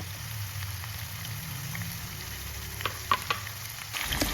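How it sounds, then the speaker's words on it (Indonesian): Jengkol frying in a shallow layer of hot oil, a steady low crackling sizzle with a few sharper pops and spatters standing out near the end, close and continuous. "aku sudah panaskan minyak secukupnya aja untuk menggoreng si jengkolnya tadi"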